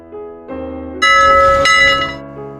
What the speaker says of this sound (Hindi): अचानक बजी डोरबेल ने